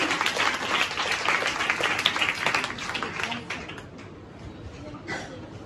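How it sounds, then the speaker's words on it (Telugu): Audience applause in a gathering, a dense patter of many hands clapping together that holds steady, then fades and thins toward the end, with a few scattered claps and some voices mixed in. "చప్పట్లు కొట్టి దేవుని నామమున మహిమపడతామా?"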